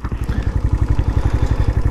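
A 2014 Keeway RKV 125 motorcycle engine idling up close, a loud steady rapid putter of even low pulses with no talk over it.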